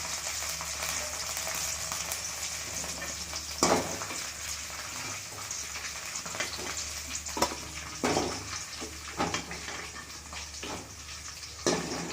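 Ivy gourd (kovakkai) fries in oil with a steady close sizzle, and occasional louder stirring scrapes and clacks break through, with no talking.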